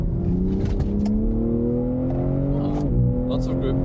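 A BMW M3 Competition M xDrive Touring accelerating hard, its engine note rising steadily in pitch as it pulls through the revs, loud and close, with a person talking over it.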